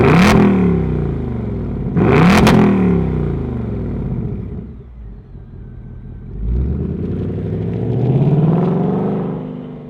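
A 2025 Ford Mustang GT with its V8 fires up with a sharp bark, blips twice loudly at close range, settles into a lumpy idle, then swells into a longer rev that climbs and falls back.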